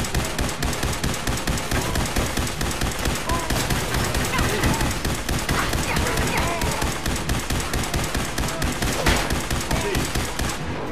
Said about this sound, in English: Gatling laser, I use that all the time. Let's just switch to that, it's pretty good.